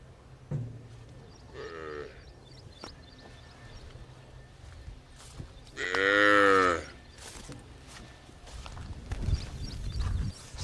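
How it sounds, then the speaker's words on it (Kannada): A cow moos twice on a village farm, a shorter call early and a louder, longer one midway, with faint clip-clop and other livestock sounds around it. "ಮೊನ್ನೆ ತಾನೇ ನಮ್ಮ ಹಸು ಕರು ಹಾಕಿದೆ"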